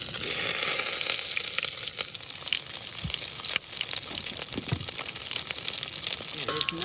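Chicken patties fry in hot oil with a steady, dense sizzle and crackle that fills the whole stretch, fairly close and loud, with a few faint pops and no talking.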